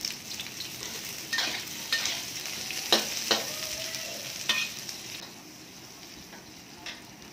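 Kaffir lime leaves, lemongrass and onion sautéing in hot oil, a steady low sizzle broken by several sharp scraping stirs of a utensil against the pan, with no voices.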